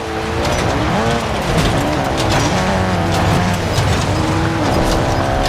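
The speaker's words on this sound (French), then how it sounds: "Oh la voiture." A car driven in the video game Warzone gives a steady, loud engine roar with skidding tyres squealing, filling the whole stretch without pause and with no talk over it.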